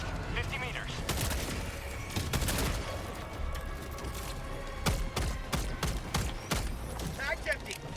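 Rapid gunfire in the shooter game Helldivers 2, bursts of sharp shots and thumps against robotic enemies, loud and close with a few spaced single cracks later on.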